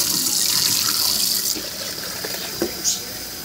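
Cold tap water running into a dog chew toy, a steady hissing gush that changes pitch partway through as it fills, followed by a couple of small splashes.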